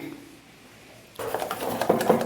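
Batter being mixed in a bowl for a quick breakfast, a utensil clinking and scraping against the bowl in quick irregular strokes after a quiet opening.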